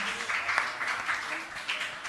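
An audience applauds at a Jain religious question-and-answer discourse, steady crowd clapping lasting a couple of seconds at moderate loudness with a voice faintly underneath.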